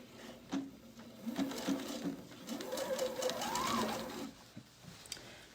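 A sewing machine sews a sleeve seam with a regular 2.5 straight stitch, a close, fairly quiet whirring run that starts and stops in short bursts before one longer steady stretch.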